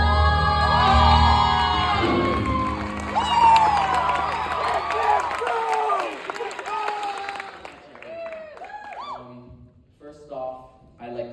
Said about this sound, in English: the applause really does say to me, yeah, you're all right, kid